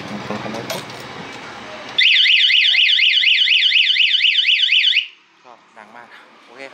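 Anti-theft alarm on a 2015 Honda MSX motorbike sounding when locked: a loud, close, rapidly warbling electronic siren lasting about three seconds, cut off abruptly, with someone talking before and after.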